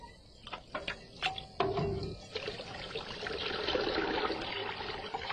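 Water is drawn from a very deep natural well with a rudimentary hand winch: a few knocks and creaks first, then water pouring and trickling steadily, close and alone without speech.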